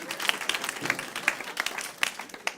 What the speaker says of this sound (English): We can clap for that. Let's clap for that.